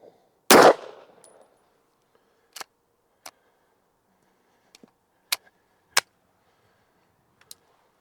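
A Walther PDP pistol fitted with a Strike Industries Micro Comp and loaded with Federal rounds fires a single loud, sharp shot close by, then only scattered small metallic clicks follow.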